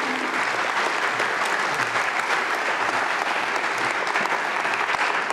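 A conference crowd claps steadily and continuously in a plenary session, dense applause holding at an even level throughout with no pauses.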